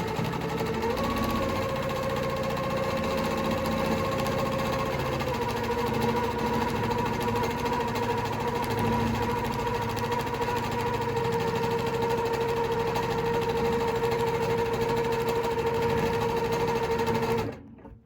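A domestic sit-down sewing machine stitches continuously during free motion quilting of an all-over heart design, giving a steady close whirring hum with rapid needle chatter that runs without pause until it stops abruptly at the end.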